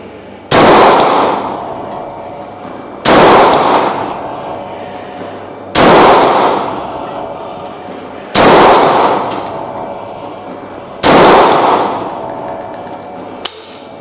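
A semi-auto SVD-style Kalashnikov TG-3 shotgun in 9.6x53 Lancaster fires five loud, booming shots at an unhurried, even pace of about one every two and a half seconds, each followed by a ringing outdoor decay, with no talking.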